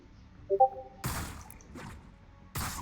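A Fortnite Dark Axe pickaxe effect from a video game: a short bright tonal chime, then bursts of wet splashy whooshing, close and clean with no talking.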